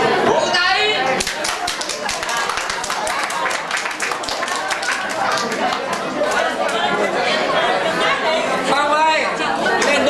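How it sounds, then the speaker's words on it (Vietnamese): Audience clapping at a Vietnamese community gathering, a steady dense patter of many hands that keeps going throughout, mixed with lively crowd chatter and voices talking over it. "Vỗ tay."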